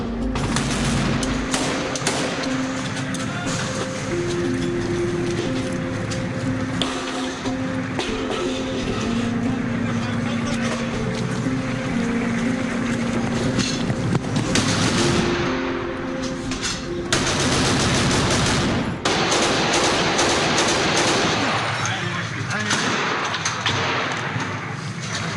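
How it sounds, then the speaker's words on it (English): Gunfire from ISIS gunmen in a surprise attack on a unit pushing into an urban neighborhood, dense sustained bursts of automatic fire, loud and close, with a mechanical drone and brief pauses between volleys. "they come under a surprise attack from ISIS gunmen"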